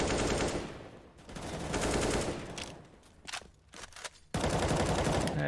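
In a CS:GO esports match, Tech 9 pistol gunfire comes as loud bursts of rapid shots with brief lulls between them. The shooting ends in a sustained final volley.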